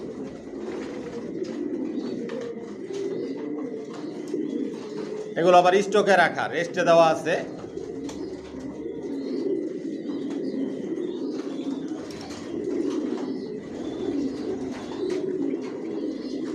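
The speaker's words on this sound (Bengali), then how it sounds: "এখানে যে কবুতরগুলো দেখতেছেন এগুলো আমার মাস্টার পেয়ার রানিং পেয়ার" Racing pigeons, master breeding pairs resting in a loft, keep up a low, steady cooing murmur while someone talks over them for most of the stretch.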